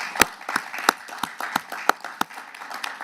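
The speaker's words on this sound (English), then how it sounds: "this is a good time to applaud" Scattered audience applause at a commission meeting: a dozen or so sharp, separate hand claps at an uneven pace, fairly close and moderately loud, with no voices over them.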